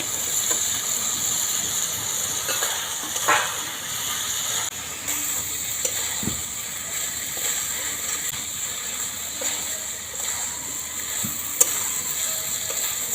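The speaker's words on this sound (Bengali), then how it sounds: "ভালো করে মশলার সঙ্গে নেড়ে নিতে হবে যত ভালো করে নাড়া যাবে" Soaked soybeans and potato pieces sizzle in spice masala in a pan, a loud steady hiss and crackle with occasional stirring scrapes, close throughout.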